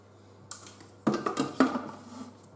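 Quartered onion pieces dropped into a Thermomix TM5 mixing bowl, making a few distinct close thuds and clinks in quick succession after a faint tap.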